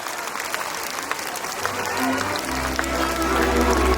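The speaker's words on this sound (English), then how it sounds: "The clapping should not stop." Audience clapping for students at a Glory English High School primary annual function, a steady crowd applause with a low hum and tonal sounds entering partway through.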